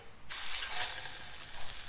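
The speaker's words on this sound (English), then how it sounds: "Right, so I put a bit of oil in the pan to cook the fish." Oil in a pan on a camping stove, ready for cooking fish, breaks into a sudden soft sizzling hiss after a quiet moment, continuing as a steady crackling spray close by.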